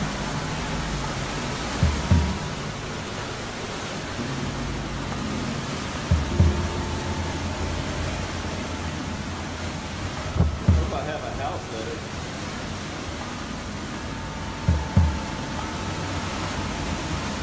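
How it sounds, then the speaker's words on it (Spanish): Roaring wind and rough sea during a hurricane in the Villairi Viejo neighborhood, a dense, steady rush of noise with low thumping gusts recurring every few seconds. "otra vez el mar aquí donde nos encontramos"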